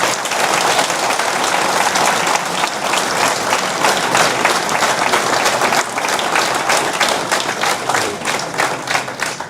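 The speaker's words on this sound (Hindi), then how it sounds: "तो पाकिस्तानियों के लिए हम सबको ताली बजानी चाहिए" A large audience gives sustained, loud applause, a thick continuous roar of many clapping hands that holds steady for several seconds with no talk over it.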